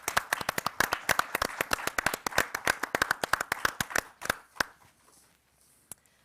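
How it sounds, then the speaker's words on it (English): A small audience claps in a quick, sparse round of applause, a few hands giving sharp distinct claps that thin out after about four seconds, leaving a couple of last isolated claps in near silence. "we should at least give the world's smallest round of applause for all those awards"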